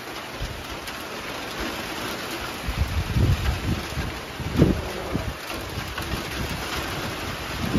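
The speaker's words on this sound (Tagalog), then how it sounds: "Grabe ang hangin mismo. Lakas ang hangin." Strong wind and rain buffet the microphone outdoors, a steady broadband roar with gusts swelling loudest around the middle and near the end, mixed with rainfall and running water.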